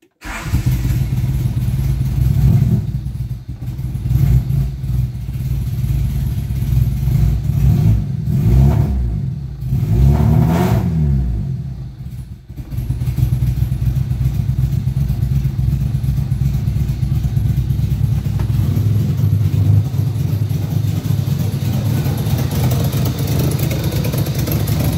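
A 1992 Honda EG car engine with an ECU fault cranks and catches, then idles loudly close by, with several rising revs in the middle before it settles back to a steady, rough idle.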